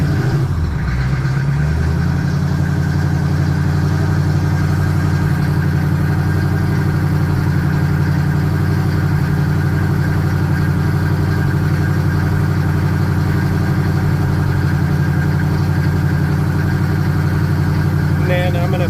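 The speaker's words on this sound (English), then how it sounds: "It's super impressive how smooth this classic diesel design injection pump runs" A 6.5 diesel race truck engine idles with a steady, smooth low rumble and constant drone, close and loud, holding even throughout with no change in pace.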